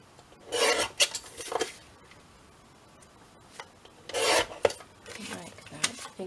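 Scissors or a blade cut through the end of a piece of card in a few rasping bursts, with short scraping strokes and pauses in between. The sound is close and dry, and nobody speaks.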